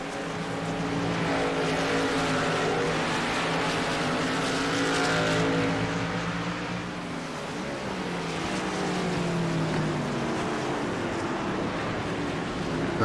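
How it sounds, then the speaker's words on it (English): A BRP Ford Mustang race car in a sim racing game slides off the track at Road America, its engine droning loudly and steadily with shifting revs. The pitch sweeps down and back up mid-slide, with tire noise underneath. "Henrietta still into trouble as he's sliding off the race course here in the BRP Ford Mustang here at Road America."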